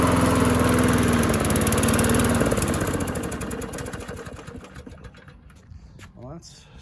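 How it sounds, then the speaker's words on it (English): A pull cord starts an unprimed walk-behind lawn mower engine fitted with an NGK spark plug and probably a dirty carburetor; it roars loudly close by for a couple of seconds, then sputters and winds down to near silence. "Let's pull the cord to see what happens without priming it."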